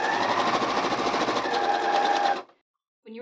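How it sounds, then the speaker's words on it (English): Sewing machine running a 3/8 inch seam on a clear face mask, a steady fast mechanical whirr that stops abruptly near the end, followed by a brief quiet moment before a voice begins to speak. "Now we're going to sew with a 3/8 inch seam allowance."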